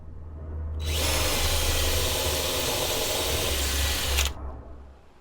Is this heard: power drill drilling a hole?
yes